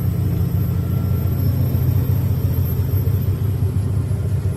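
Engine of a loud school garbage truck: a constant, heavy low rumble that drones steadily and close up, with no breaks or other voices.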